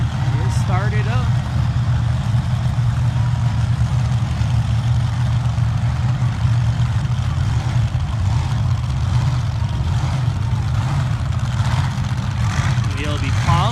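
A sand drag racing car at a 300-foot sand drag strip in San Jacinto, California runs with a steady, heavy low engine rumble held evenly throughout, loud and close, with faint voices in the background.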